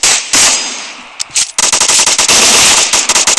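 Gunfire in the mobile video game PUBG Mobile Lite: loud, close automatic bursts with a brief pause and scattered single shots, then a long rapid stream of shots.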